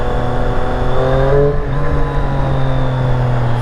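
A Triumph Street Triple RS motorcycle in sport mode accelerates hard, giving a loud, continuous engine drone with strong harmonics that holds steady, heard up close with no talking.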